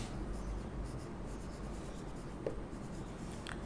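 A pen scratches across a writing surface while matrix notation is written out, soft continuous scribbling over a steady background hiss. No one speaks.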